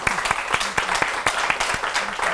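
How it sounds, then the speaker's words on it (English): An audience at a live talk event claps in a sustained round of applause, dense and steady, with a few louder individual claps standing out near the microphone. "Let's give them a round of applause."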